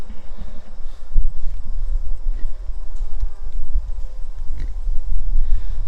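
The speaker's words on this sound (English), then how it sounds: "So my Idaho pasture pigs, this here, oh, he's a little camera shy." Idaho pasture pigs snuffling and grunting close by, with shuffling hooves and movement on the ground throughout; no talking.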